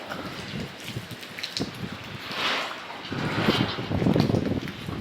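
Strong typhoon wind gusts from Typhoon Inday in Tagaytay City roar and buffet, swelling louder toward the end, mixed with rain and rushing noise.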